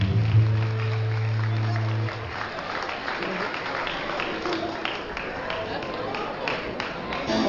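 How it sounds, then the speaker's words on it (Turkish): Applause at a wedding as the bride and groom's families are called out for a zeybek dance, a broad steady clatter of clapping lasting throughout, with a musical drone fading out early. "Güzel bir alkışla efendim"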